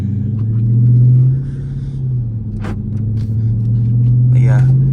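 A Dodge Charger R/T's engine rumbling on a late-night drive, a loud steady low drone heard from inside the car, swelling briefly and then settling, with a few faint background noises.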